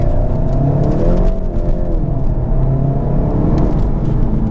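A Volkswagen Golf GTI Mark 7.5 Performance accelerates hard from inside the car, engine note climbing, dropping briefly at a gear change near one second and then rising again, loud and steady throughout.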